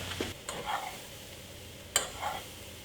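Cauliflower pizza crust sears in a pan with a faint, steady sizzle, broken by a few scraping stirs from a utensil, heard up close with no talking.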